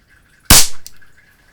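A single sharp crack from a Shakespeare Acro CO2 pistol fires close by, followed by a short second tick amid a quiet background hum.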